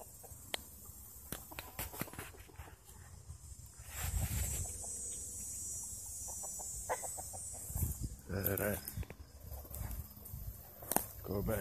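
Roosters and chickens at a backyard coop cluck and squawk in scattered bursts, some loud and close, alternating with someone talking and a stretch of steady rustling noise.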